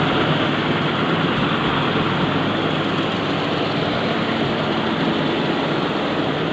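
African Queen boat engine idling steadily while warming up with the choke on, a dense continuous low rumble and drone, loud and close, unbroken and without voices.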